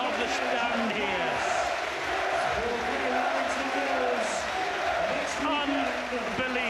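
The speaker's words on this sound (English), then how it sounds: "Cunningham takes the applause of the stand here." A stadium crowd at a rugby league match applauds and cheers a player, the massed clapping and shouting forming a loud, unbroken roar throughout.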